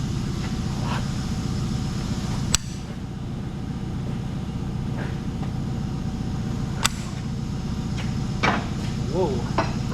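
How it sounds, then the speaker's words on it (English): A 1935 Allis Chalmers UC tractor engine being cranked over, a low steady churning rumble with a few sharp metallic clanks spread across ten seconds, moderately loud and close. "I'll turn the engine over, and we're gonna see if any of these valves are stuck."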